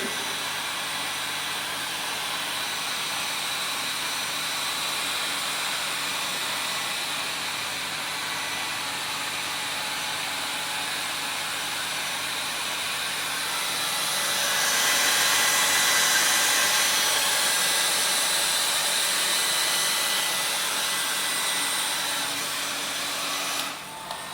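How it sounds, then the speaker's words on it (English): A steady electric blower dries a metal lab specimen, whirring continuously, growing slightly louder and brighter midway before cutting off at the end; no voices. "you have to dry the specimen using the dryer"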